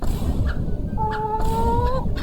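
Chickens cluck and call close by in a yard, a few short squawks and one drawn-out, wavering cry rising over a steady rustling background, with no talking.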